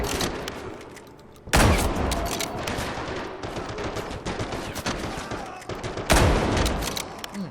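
Automatic gunfire in the video game Delta Force: Black Hawk Down, rapid bursts of rifle and machine-gun fire with loud sharp onsets, rattling continuously over several seconds.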